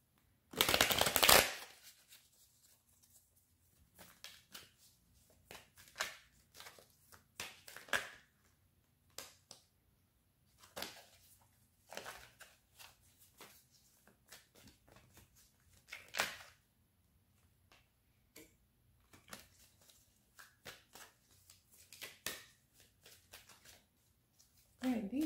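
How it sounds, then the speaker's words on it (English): Tarot cards shuffled repeatedly in short, crisp bursts with pauses between, close up and fairly quiet, after a loud riffle at the start. "I'm gonna have to keep shuffling some more."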